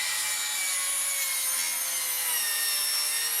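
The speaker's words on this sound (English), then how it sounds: "I'll now do a depth of cut test with these three saws" A Makita 40V circular saw cuts steadily through wood in a depth-of-cut test, a loud, bright, continuous whine held at an even level for the whole stretch, with no voices.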